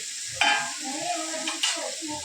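A spoon stirs oil into a veg biryani mixture in a pot at home, giving soft scraping strokes with a light sizzle underneath, two sharper scrapes standing out over a quiet, steady background.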